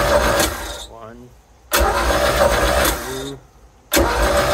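A Mercruiser 3L 120 hp boat engine cranks over during a compression test in two bursts of rapid rhythmic chugging, each stopping abruptly before loud steady engine noise resumes, close and heavy.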